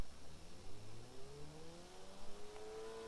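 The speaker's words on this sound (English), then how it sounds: "I can hear the turbo. The turbo's loud as hell on this thing." Honda Civic Type R with its turbocharged 2-liter inline-four, revving and pulling as its pitch climbs steadily, with audible turbo whine in a drive compared against a Ford Mustang GT; no talking.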